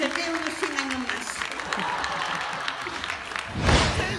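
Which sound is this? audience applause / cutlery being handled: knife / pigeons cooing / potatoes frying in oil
audience applause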